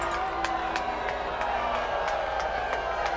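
A sprint football crowd in a stadium reacts to a referee's call with a steady wash of murmuring and scattered shouts, interrupted by sharp periodic clicks, while a commentator talks over it.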